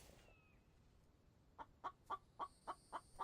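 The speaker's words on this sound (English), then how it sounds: "I hear you, chicken, but I don't need you right this second" A chicken in a survival video game clucks in a steady series of about seven short, evenly spaced clucks after a brief quiet start, fairly faint against a low background hum.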